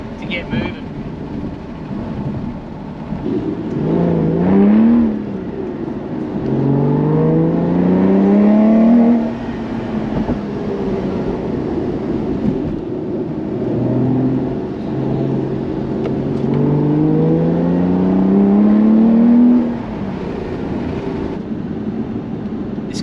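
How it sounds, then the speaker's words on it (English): A V12 supercar engine revs hard while pulling away, rising in pitch through repeated climbing sweeps that ease back between gears, loud and close; someone talks over the engine. "you really got to get some revs into them"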